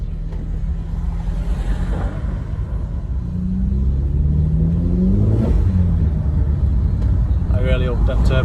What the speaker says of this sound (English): I really hope them turbo sounds come out on this video, because they sound fucking nice